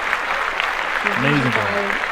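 Applause during a sports podcast, a spatter of clapping that runs the whole way through, with a voice speaking over it partway.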